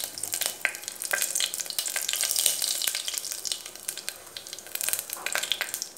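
Dried red chillies sizzle in hot oil along with fennel, stone flower and a bay leaf, making a loud, crackling, steady frying hiss with sharp spits and pops and no voices.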